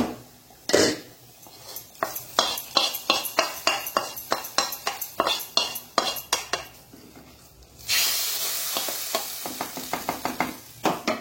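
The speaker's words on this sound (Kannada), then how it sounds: "ಈ ರೀತಿಯಾಗಿ ಒಗ್ಗರಣೆ ಕೊಟ್ಟರೆ ಬಹಳ ಚೆನ್ನಾಗಿ ಆಗ್ತದೆ" Tempering sizzles and crackles in a pan for a prawn and okra sambar, with a spoon knocking against the pan in a steady rhythm and a louder burst of sizzling near the end. No one speaks.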